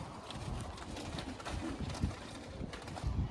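Pigeons kept by a dealer selling pairs give soft, low, repeated coos against a steady background hiss of outdoor noise.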